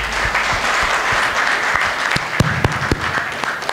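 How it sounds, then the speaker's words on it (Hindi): Applause from the audience at a Hindi comic poetry recital, a dense continuous wash of clapping with a few sharper individual claps standing out near the end, fairly loud and without speech. "एक बार मेरे लिए ताली बजा दीजिए"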